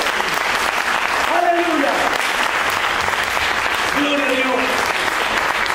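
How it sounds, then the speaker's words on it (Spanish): Applause fills a Spanish-language Christian worship gathering, a steady wash of clapping from a crowd that runs the whole time, with voices calling out praise over it. "Dale el aplauso al Rey."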